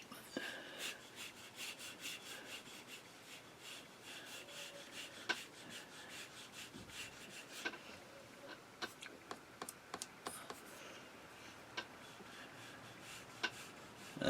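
A gouache brush drawn sideways across paper with its chisel edge makes faint, soft scratchy rubs with small ticks scattered through a quiet room.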